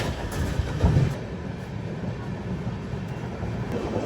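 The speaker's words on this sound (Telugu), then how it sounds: "మన ట్రైన్ ఆ ట్రైన్ అయితే ఓవర్టేక్ చేస్తుంది." A Seoni to Firozpur train rumbles past, overtaking, with a steady broadband roar, loudest briefly near the start, then a continuous rolling drone without speech, among hills.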